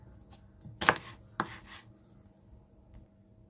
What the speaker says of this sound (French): Gingembre, je vais couper en julienne.